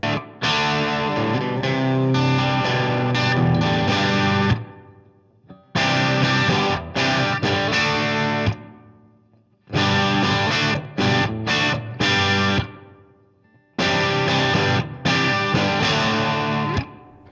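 A Gretsch 5420T electric guitar plays big distorted chords through a Marshall-type amp, four loud, ringing phrases with short silent gaps between them.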